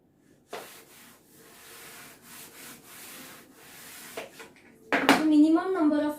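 Dry scrubbing strokes of a duster rubbing writing off a classroom board come in a run of soft, repeated swipes, ending in a louder burst mixed with a voice.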